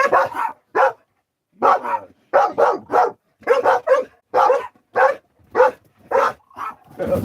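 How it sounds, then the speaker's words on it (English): Dogs barking in repeated sharp bursts, loud and close, with short pauses between barks in an uneven rhythm that picks up toward the end. "They're just gonna bark."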